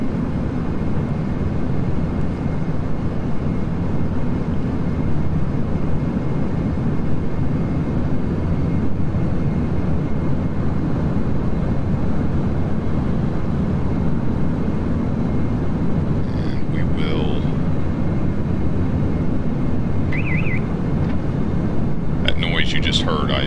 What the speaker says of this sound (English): I accidentally pulled the power levers back into the beta position.